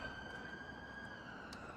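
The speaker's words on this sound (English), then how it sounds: "the shrill of a siren bringing some poor unfortunate to hospital" An ambulance siren wails faintly in the distance along a busy road, a thin steady tone over low traffic rumble, brief and without talk.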